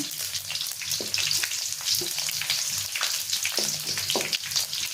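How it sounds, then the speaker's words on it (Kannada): Garlic roasts in hot oil in a pan for a puffed-rice tempering snack, producing a dense, continuous close sizzle with scattered pops and crackles, alone without talk. "ಬೆಳ್ಳುಳ್ಳಿ ಚೆನ್ನಾಗಿ ರೋಸ್ಟ್ ಆಗಬೇಕು"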